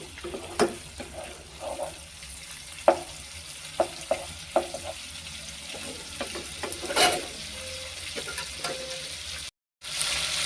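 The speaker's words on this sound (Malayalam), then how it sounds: "ഈ വെണ്ണ ഇനി നമുക്കൊന്ന് നെയ്യാക്കി എടുക്കാം വേണ്ട ഇതുപോലെ തിളച്ച് തിളച്ച് വെള്ളമൊക്കെ പറ്റി" Butter boils in a pan as it turns into ghee, giving a continuous soft sizzle and bubbling broken by occasional sharper pops and clinks of stirring, close and fairly quiet with no talk.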